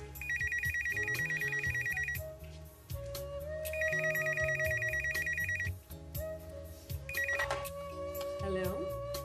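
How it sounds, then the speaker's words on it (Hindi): A telephone rings in a home with repeated trilling bursts in a regular on-off pattern, three rings heard over music, with voices talking underneath. "मेरे घर में किसका फोन आ गया?"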